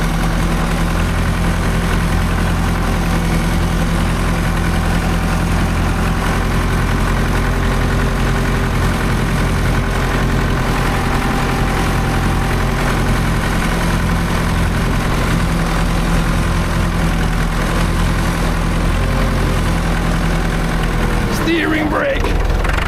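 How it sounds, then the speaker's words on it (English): A tractor engine runs steadily while packing a track through fresh snow, a loud, constant low drone close by with a brief clatter near the end; someone talks over the engine noise. "it's hard when the tractor wants to go kinda everywhere"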